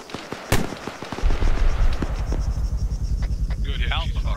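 A rocket is fired in a military video game: a sharp blast lands early, then a heavy, sustained rumbling roar with crackling bursts follows close and loud.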